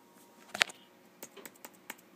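Sparse keystrokes on a worn MacBook keyboard, with one sharp louder click early and then several scattered, quieter taps at irregular intervals in a quiet room.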